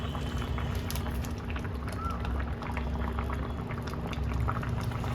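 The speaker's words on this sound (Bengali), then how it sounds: "প্রায় 5 থেকে 10 মিনিট এটাকে ফুটতে দেবো দমে, যাতে চিংড়ির মধ্যে সমস্ত কিছু মশলাটা ভালো করে ঢোকে।" A covered pot of prawn malai curry simmers steadily, a dense, continuous bubbling and boiling hiss that stays even and fairly close throughout, with no talk over it.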